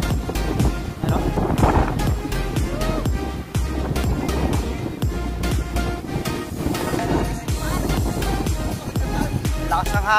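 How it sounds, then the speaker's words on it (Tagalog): Strong wind at the seaside buffets the microphone in a constant roar, with water and waves blending underneath and faint voices mixed in. "Lakas ng hangin."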